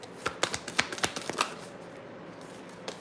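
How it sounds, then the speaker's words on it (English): A deck of cards being shuffled during a tarot-style reading, a quick riffle of sharp crisp flicks clustered near the start, then a pause and one last soft tap near the end, close and fairly quiet. "Y'all just saw me shuffle"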